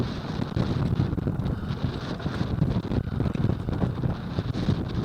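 A sail on an Achilles 24 sailboat flapping and straining in strong storm wind, heard as continuous loud gusting wind roar with dense low buffeting and rumbling throughout, no voices.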